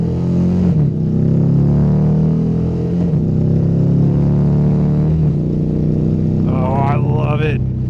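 Indian motorcycle engine accelerating, a loud close rumble rising in pitch through several gear pulls with brief dips between them, ending in a higher whine near the end.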